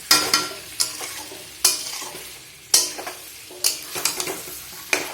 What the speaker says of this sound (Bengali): তো দেখো এই যে ফ্রেন্ড, মাংসটা কষাচ্ছি আমি